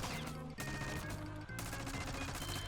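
Rapid-fire secondary weapon in a video game, blasting a dense, continuous stream of loud gunfire with a brief break partway through.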